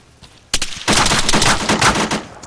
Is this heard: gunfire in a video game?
yes